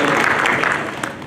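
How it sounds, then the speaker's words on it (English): A short burst of steady clapping from a convention panel audience, loud and close, fading slightly toward the end. "Give him a round of applause."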